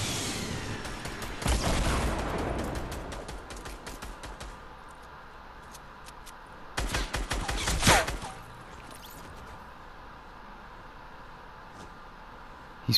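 Sniper rifle fire in a first-person shooter, two loud broadband blasts roughly five seconds apart, each trailing off into a low rumble against quieter game ambience.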